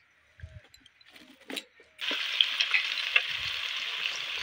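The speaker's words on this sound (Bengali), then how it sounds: "শুকনো লঙ্কা ফোড়ন দিচ্ছি" Dried red chillies hit hot oil in a home kitchen: after a few soft clinks and taps, a sudden loud sizzle bursts in halfway through and keeps crackling steadily and close until the end.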